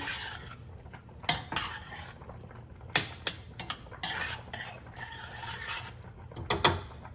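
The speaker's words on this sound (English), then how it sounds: "Give it a nice little stir." A utensil stirs red wine through a bolognese sauce in a pot, with irregular clanks and scrapes against the metal sides over a soft background.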